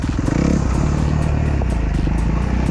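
A small beginner motorcycle pulls away, its engine note rising from idle and then settling into a steady running rumble, close and fairly loud.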